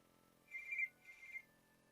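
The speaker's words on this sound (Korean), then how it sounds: "한 달 후, 전화." A telephone rings in two short electronic bursts, moderately loud and close, with quiet surroundings and no speech.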